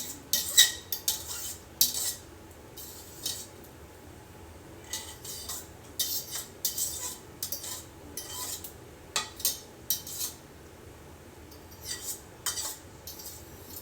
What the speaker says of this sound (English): Sorry for all that scraping